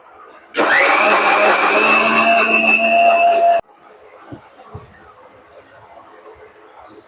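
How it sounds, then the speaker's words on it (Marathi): A kitchen mixer grinder blending a homemade spice masala whirs loudly and steadily for about three seconds, then cuts off abruptly, leaving faint clatter and room noise. "परत एकदा मिक्सरमध्ये फिरून घ्या."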